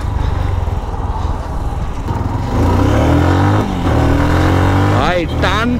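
A GPX motorcycle engine idles with a steady rumble, then revs up as the throttle is pulled, ending in a quick run of rising and falling blips, close and loud.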